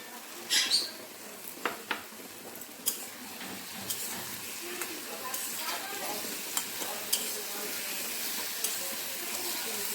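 Leafy greens and eggplant pieces fry in hot oil in a pan, giving a soft, continuous sizzle broken by several sharp clinks and scraping stirs, the loudest near the start and then settling into a steady crackle.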